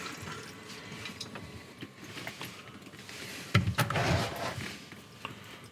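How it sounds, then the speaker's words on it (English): Water drips and seeps from a loose reverse osmosis tank connection under a sink, a steady wet trickle with a louder splashing burst midway, up close and with no talking. "it's the tank connection that's dripping"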